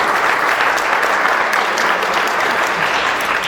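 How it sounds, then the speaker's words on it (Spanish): A church congregation bursts into loud, dense applause, a continuous wash of many hands clapping close and full throughout with no gaps. "Un aplauso al Señor, bendito sea."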